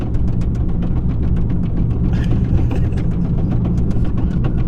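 A Fiat 500 Abarth rolls along on a blown front right tire, its engine a steady low rumble with a rhythmic flapping thump from the damaged wheel repeating throughout, close and continuous.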